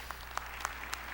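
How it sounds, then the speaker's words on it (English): Applause rolls from a theatre audience at a 9/11 memorial ceremony, a steady dense wash of distant clapping with a few sharper claps standing out. "We can just do a rolling applause."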